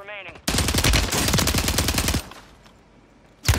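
Machine-gun fire in the video game Call of Duty rattles off as a loud, close burst of rapid shots that stops abruptly, followed by a short lull and one more sharp shot.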